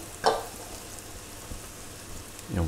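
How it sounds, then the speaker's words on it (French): A piece of butter melting in a hot pan, a soft steady sizzle framed by a sharp clink near the start and another utensil knock at the end. "Ma poêle est chaude. On va mettre un beau morceau de beurre."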